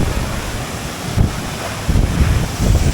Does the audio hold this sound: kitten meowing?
no